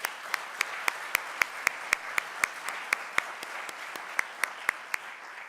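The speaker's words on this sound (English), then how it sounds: "Will you guys give her a round of applause, please?" Applause for Miss Becky at a school athletic awards ceremony, a light clapping crowd with one close, loud, evenly paced clapper beating a steady rhythm over the softer patter.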